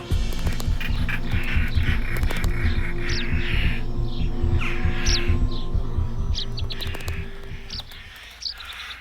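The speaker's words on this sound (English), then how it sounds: "European rollers go in search of insects to feed the chicks growing in the cracks of a centuries-old abandoned farmhouse." European rollers calling around a centuries-old abandoned farmhouse in Italy, repeated harsh chirps and squawks at varying distances over a steady low hum, with no voices.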